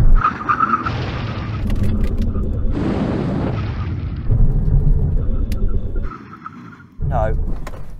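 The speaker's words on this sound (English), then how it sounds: "Get level, 70 miles an hour. Here comes the line. Full emergency stop." A Nissan GT-R brakes hard in an emergency stop from 70 mph on a test strip. Loud engine and tyre roar surges and then fades, with a short pause and a final burst of noise.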